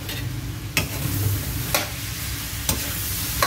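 Chopsuey vegetables stirred in a pan over a soft, steady sizzle, with a few distinct scraping clacks of a utensil spaced about a second apart, no talking.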